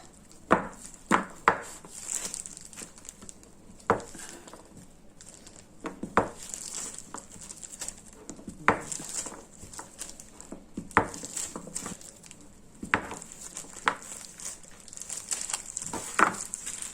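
A knife slices homemade red adzuki bean face soap into cubes, making a series of sharp, separate cutting taps at an irregular pace, close and fairly quiet.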